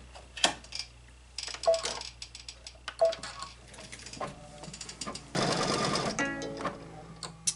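An embroidery machine stitches a Kimberbell mug rug with irregular mechanical ticks and clatter, then a louder stretch of rapid, continuous whirring, all close up with no talking.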